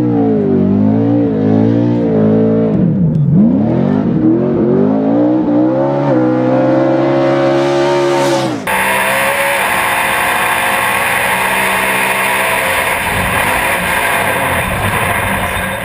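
A Nissan short course race truck of about 4,000 pounds revs its engine loudly and close, the pitch swooping up and down through several throttle blips, then holding a sustained high-rpm roar as it accelerates.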